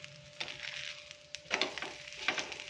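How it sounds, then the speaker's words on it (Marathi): A thalipeeth flatbread roasting in oil on a pan, a faint crackling sizzle with a few light scrapes and clicks as it is turned, quiet and close with a steady faint hum behind. "दोन्ही साईडने छान याला भाजून घेऊया"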